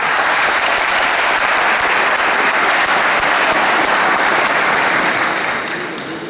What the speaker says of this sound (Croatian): aplauzom naše goste.